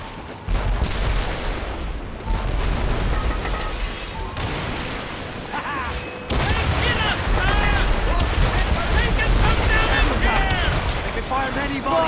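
A ship's cannons fire a broadside in Assassin's Creed Rogue, heavy booming blasts rolling out loud and close in quick succession, mixed with shouted voices and battle noise.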